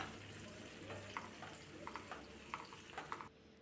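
Sliced onions sautéing in hot oil for an egg roast make a soft, steady sizzle punctuated by light spoon scrapes and taps toward the end.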